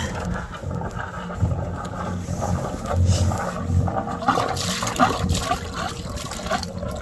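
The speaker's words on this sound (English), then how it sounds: "Okay, he's pouring in" Liquid pours into a container in a steady, close wet trickle that keeps running under faint background noise, with no talking.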